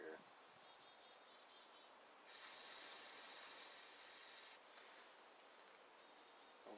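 Cleaner sprays through the carburetor of an old 1960s MTD LawnFlite mower in one steady, forceful hiss lasting about two seconds, with faint outdoor birdsong chirping before and after.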